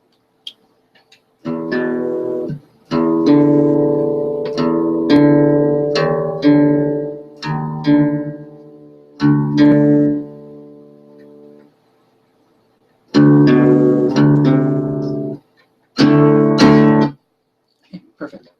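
An acoustic guitar plays bright plucked and strummed phrases, near and clear, broken by short pauses and one longer silence before resuming.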